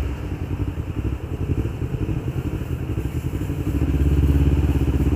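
A 2016 Yamaha MT-25 motorcycle is ridden on a test ride, its engine giving a steady, close, pulsing rumble that swells slightly near the end, with a faint clatter and no talking.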